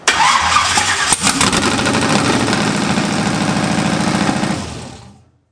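A Maverick car engine cranks and catches, then runs in a loud, rough, rapid idle for several seconds before being switched off and trailing away into silence, with no talk.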